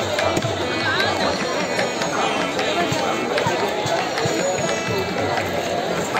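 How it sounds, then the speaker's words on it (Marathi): Dense crowd bustle at the Anganewadi village fair, a one-day jatra: continuous loud mingled chatter and footsteps with scattered mechanical clicks and rattles, steady throughout with no pauses. "बघा कसली गर्दी आहे।"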